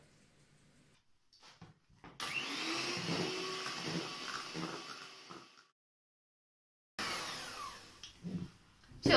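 Cake cream being whisked with honey, a loud steady whirring that runs for about three and a half seconds, stops, then starts again for a couple more seconds, with quieter clatter in between.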